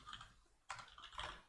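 Quick, fairly soft taps on a computer keyboard come in a short run of close clicks, with a brief pause before a second flurry and no voice.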